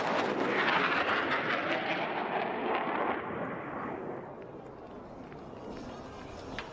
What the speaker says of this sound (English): From your right, the high-speed pass.